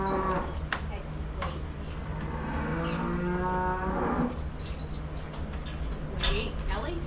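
Dairy cows on a 90-cow farm moo in several long, drawn-out calls, fairly close and loud over a steady farmyard background, with people talking now and then.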